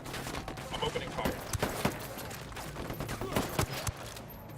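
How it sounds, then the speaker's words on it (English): Gunfire during a hornet's nest fight in Ghost Recon Wildlands, rapid bursts of shots cracking in a steady string, with talk mixed in. "I'm opening fire."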